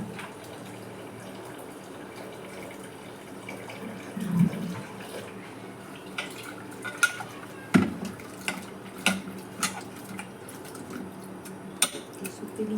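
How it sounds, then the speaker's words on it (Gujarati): Flattened rice (poha) being rinsed in water in a home kitchen, with soft splashing and scattered clinks of a metal vessel and utensils over a steady low background hum. "તો ચાલો પૌવા મને ધોઈને મૂકી દઉં."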